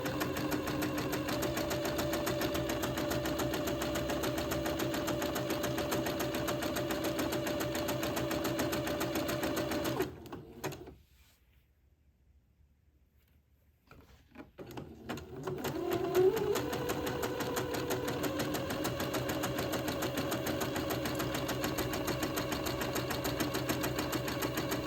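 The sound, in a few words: sewing machine zigzag stitching baby dress edge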